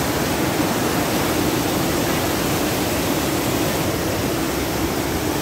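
Water rushing steadily over a traditional fish weir, a loud, continuous broadband roar with no pauses and no voices.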